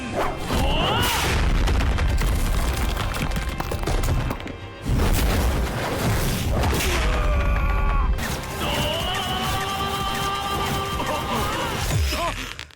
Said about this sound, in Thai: ซึ่งจะเป็นไฟซีนของคิร ะกับโจสเกะซึ่งทั้งคู่เนี่ยจะทำการแลกหมัดกันต้องบอกเลยว่าเสีย งดังฟังชัดลั่นสนั่นหูจริง ๆ